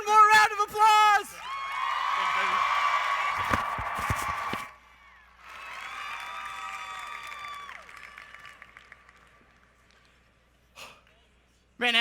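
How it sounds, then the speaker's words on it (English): Arena crowd at a national FFA convention general session gives Cooper a round of applause, loud sustained clapping and cheering in two long waves, with short vocal bursts at the start and end. "Let's give Cooper one more round of applause."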